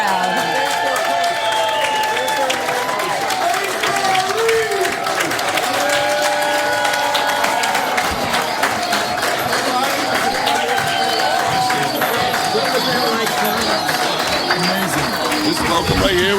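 A large crowd cheers and applauds to welcome the Lake Mary Little League team home, a loud, continuous wash of clapping, shouts and whistles with voices talking throughout.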